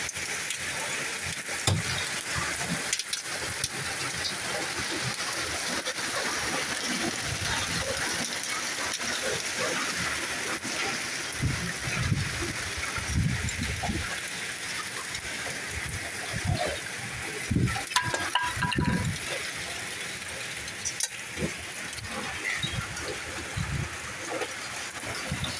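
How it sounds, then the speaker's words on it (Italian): Heavy hail pounds down during a violent August hailstorm in Turin, a dense continuous patter and clatter with louder bursts of impacts, steady for the whole stretch. "continua a grandinare violentemente."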